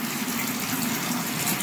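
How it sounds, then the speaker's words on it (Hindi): Hot water gushes steadily from a tap into a bucket, a continuous close splashing fill with no voices. "तो इसको गर्म पानी भर के फिर मशीन में डालना है।"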